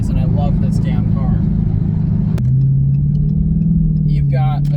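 A deep 6.4-liter naturally aspirated Hemi V8 in a Dodge Challenger rumbles and revs steadily up close, its throaty drone continuous, with a brief sharp click partway through and faint voices under it.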